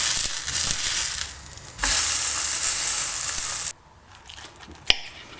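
A burger patty sizzles loudly in a pan with a bright hiss, which drops abruptly to near quiet partway through, followed by a single sharp knock.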